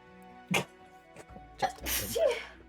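A hay-fever sneeze bursts out sharply once, then another sneezing fit follows with a second loud explosive sneeze, close up. Quieter voiced sounds fall between them.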